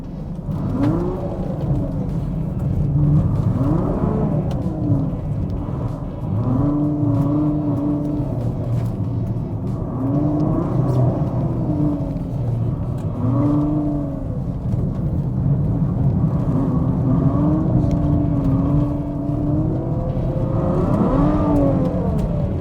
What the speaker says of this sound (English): let's go for a little drive so I can show you guys that this car is still proper and happy